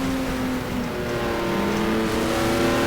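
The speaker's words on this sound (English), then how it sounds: "The sound of the V12 Matra naturally aspirated engine is stunning, one of the best sound ever." A Matra V12 naturally aspirated race car engine in the racing game GTR2 holds a steady, sustained high-pitched wail with a slowly shifting pitch, loud and continuous with no talk.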